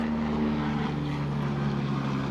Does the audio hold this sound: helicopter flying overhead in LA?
yes